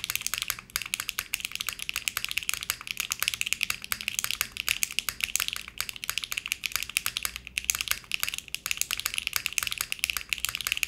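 Mechanical keyboard with HMX Hyacinth switches and a PBT spacebar, typed on continuously in close, crisp rapid clacks with occasional slightly deeper spacebar strokes and no talking.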